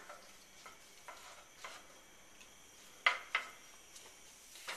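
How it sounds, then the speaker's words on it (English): Chopped onion sautéing in a pan for a quinoa pasta dish, a quiet steady sizzle broken by a few soft scrapes of stirring, two of them sharper and closer. "we're gonna saute this onion until it's nice and tender"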